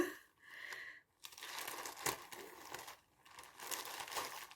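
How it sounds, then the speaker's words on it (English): Crinkly fabric of a cross-stitch kit project being handled, giving close, continuous crinkling and rustling in irregular bursts. "Sorry for the crinkling."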